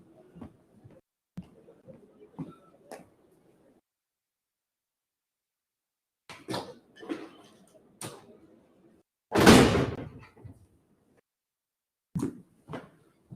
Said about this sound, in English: I just close the door because it's noisy.